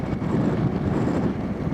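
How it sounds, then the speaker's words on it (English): Steady wind roars across the microphone of a Honda Africa Twin motorbike riding through bush on the Great Ocean Road in Victoria. It is a dense, constant, low buffeting rush with no talking. "Pretty windy out there."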